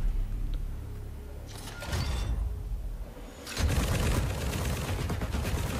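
Gunfire from a special weapon in the video game Call of Duty: Infinite Warfare, with loud dense bursts of shots and crackling impacts that come in two waves, separated by a brief quieter whoosh.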